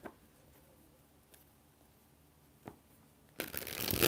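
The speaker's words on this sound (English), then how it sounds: "We're going to get 5 shuffles because I hadn't shuffled them any before I started." Tarot cards riffled in a burst of dense crackling shuffle noise near the end, after a few soft isolated taps and clicks in a quiet room.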